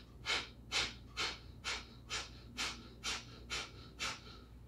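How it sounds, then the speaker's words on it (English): Rapid, forceful breaths pushed out through the nostrils during a yoga breathing exercise, nine sharp, evenly spaced exhales at close range, quiet, with no talking. "your body is pressing the air so quickly out of the nostrils is right from the belly"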